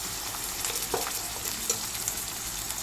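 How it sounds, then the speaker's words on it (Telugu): Marinated chicken fries in a pan with a close, loud sizzle and crackle, broken by a few stirring scrapes and taps, with no voices. "ఇప్పుడు మ్యారినేట్ చేసుకున్న చికెన్ వేయాలి."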